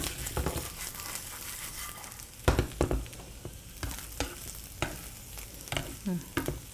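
Tofu and ground pork being warmed together in a pan sizzle softly, with frequent stirring scrapes and clatters breaking through the quiet frying.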